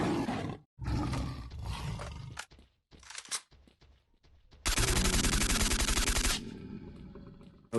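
Pseudo-giant mutant boss fight in the game Stalker: Shadow of Chernobyl, with loud monstrous roars and bursts of rapid gunfire broken by short pauses, ending in a long sustained stretch of automatic fire, no talking.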